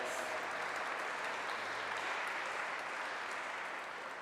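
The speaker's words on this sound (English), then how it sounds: "that deserves an applause" An audience at a book launch applauds steadily, a dense wash of clapping that holds at an even level and tapers slightly at the end.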